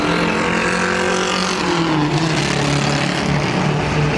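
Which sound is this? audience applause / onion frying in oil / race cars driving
race cars driving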